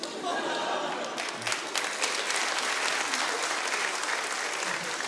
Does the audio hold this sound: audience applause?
yes